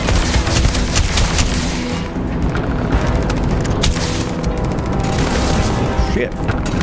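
Gunfire in a video game, dense and loud, with rapid overlapping shots and booms continuing throughout.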